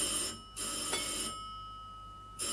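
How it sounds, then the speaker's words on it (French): An old telephone bell rings loudly in a 1935 film soundtrack, two long electric rings separated by a brief pause, then a third starting, over a noisy, hissy background. "Ah, téléphone."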